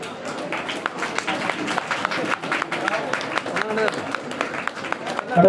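Audience applause at a community honouring ceremony, a dense, steady wash of clapping running throughout at moderate loudness, with some voices and crowd noise mixed in.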